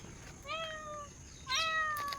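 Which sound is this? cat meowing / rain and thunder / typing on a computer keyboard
cat meowing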